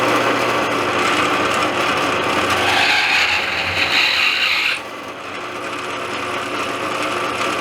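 Power drill running a larger countersink bit over pilot holes in wood to recess screw heads for a picture frame jig, a continuous close whirring grind that steadies for a few seconds then drops to a lower hum.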